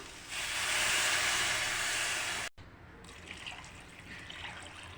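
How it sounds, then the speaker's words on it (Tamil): Water pours steadily into a cooking pan for a Kalai tiffin dish, a loud broad rushing stream for about two seconds, then stops abruptly, leaving softer trickling and sizzling. "இப்போ தண்ணி ஊற்றிக்கலாம்."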